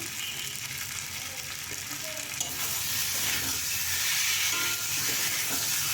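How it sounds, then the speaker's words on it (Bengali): Vegetables and spices sauté in a pan with a little cane jaggery, giving a constant close sizzle and soft stirring noises. The hiss grows louder toward the end. "সবজি মশলা প্রায় কষে এসেছে"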